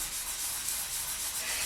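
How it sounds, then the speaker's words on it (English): Close, steady sanding of polymer clay with 400-grit sandpaper: a continuous dry, hissing rub scrubbing back and forth against the surface, with no voices. "And you'll just start sanding."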